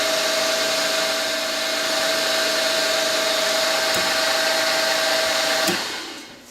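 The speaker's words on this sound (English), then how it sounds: "And now we follow it with a 3 millimeter reamer." A 3 mm reamer cutting at low speed with plenty of oil on a machine, a loud steady whine with a constant tone that cuts off near the end as the machine winds down.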